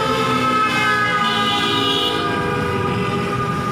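Loud, sustained motorcycle and vehicle horns blare over a rumbling roadway in celebration in Pakistan, overlapping tones honking continuously close by.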